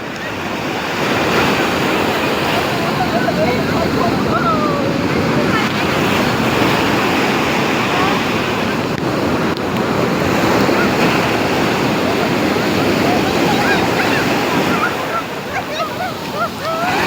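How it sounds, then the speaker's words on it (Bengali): Ocean waves break on a beach in a loud, continuous roar of surf, rising and falling in long surges with heavy wind buffeting the microphone and faint voices underneath. "ভেঙে যাচ্ছে ঢেউ।"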